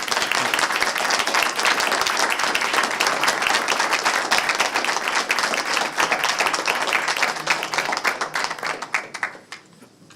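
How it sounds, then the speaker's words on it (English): Applause for poll workers at a town council meeting: a room full of people clapping steadily and fairly loudly for about nine seconds before it fades out quickly. "We just wanted to recognize and applaud their efforts"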